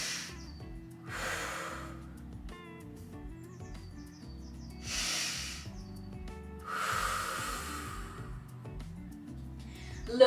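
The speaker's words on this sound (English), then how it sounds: "taking 2 full breaths." Slow, deep breaths during a yoga flow: two broad, airy swells of inhalation and exhalation, each lasting a few seconds, heard close over quiet background music with no talking.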